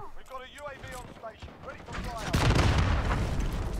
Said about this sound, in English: Of course he's got a rocket launcher. Why wouldn't he?